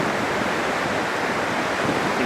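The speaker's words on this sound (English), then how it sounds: "There's the river." The Big Thompson river in the 2013 flood pours past in a continuous loud broadband roar of rushing floodwater, steady and close with no other sounds standing out.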